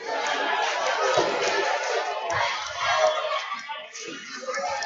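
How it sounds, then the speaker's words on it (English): A busy crowd fills a small high school gym at a varsity boys basketball game, a loud, echoing roar of chatter and cheering that swells and dips, with a commentator talking over it. "Good sized crowd here tonight for a small gym."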